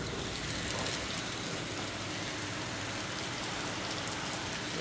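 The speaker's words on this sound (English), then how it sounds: "It's raining outside." Steady rain falls outside as a dense, continuous hiss of drops on surfaces, even and unbroken throughout with no voices.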